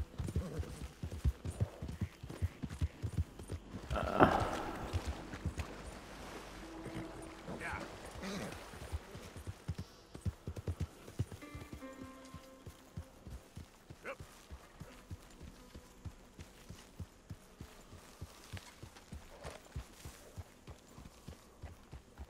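Horse hooves clip-clop around a camp in Red Dead Redemption 2, a quiet irregular patter of steps with a few louder knocks, heard over faint ambient game sound.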